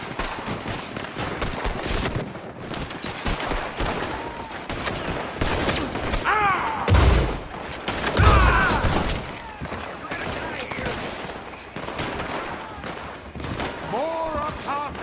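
Rapid volleys of gunfire ring out in a Red Dead Redemption 2 shootout, dense overlapping shots with heavier booms near the middle, loud and close under shouted voices.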